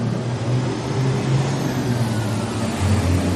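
A car engine revs close by, a continuous low rumble with small swells in power and a slight rise near the end, with no one talking over it.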